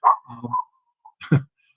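Dogs bark at someone at the door: a short burst of close, loud barks, a brief pause, then a second sharp bark alone.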